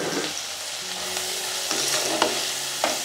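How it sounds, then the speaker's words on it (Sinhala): Cinnamon bark and spices fry in a pan for a Sri Lankan canned fish curry, giving a steady close sizzle with faint stirring and a few sharp clicks of the spoon against the pan. "මේක මේ විදිහට කෙලින් පොඩ්ඩක් බගගන්න"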